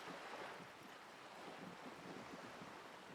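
Steady rushing wind pulls at a sail overhead, with a broad, even whoosh like sea air and surf, in the video game Disco Elysium; no voices.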